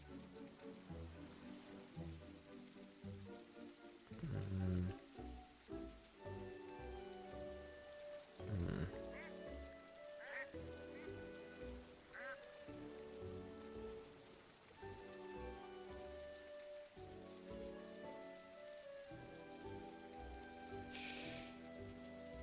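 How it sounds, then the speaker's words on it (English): Rain falling in a video game, a steady hiss of drops pattering on surfaces with scattered louder splashes and faint game sounds mixed in throughout. "I missed that it was raining."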